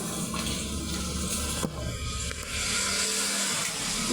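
Collected rainwater sloshes and splashes continuously as it is bailed out by hand, close and fairly loud, with a few sharper scooping knocks along the way.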